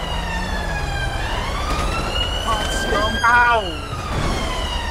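An ambulance siren wails steadily in a FiveM roleplay session of GTA, loud and close with rising and falling tones and a brief yelping burst partway through, while a voice talks over it.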